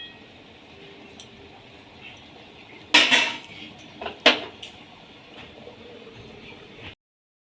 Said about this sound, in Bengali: এবার নেড়ে নিয়ে আমি ঢাকা দিয়ে দেব।